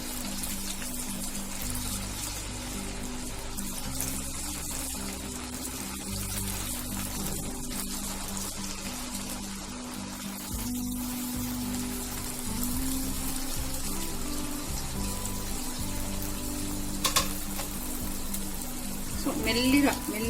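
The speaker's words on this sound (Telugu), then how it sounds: "ఇప్పుడు ఇవి డీప్ ఫ్రై చేసుకుందాం మనము" Manchurian balls deep-frying in hot oil, giving a continuous bubbling sizzle that runs steadily for the whole stretch with occasional clinks, while a person talks over it.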